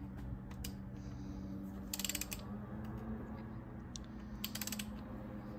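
Ratchet tightening the engine cover bolts on a 6.0 Powerstroke diesel, working in a crisscross pattern, gives close, faint bursts of rapid clicking in two short runs over a low steady hum.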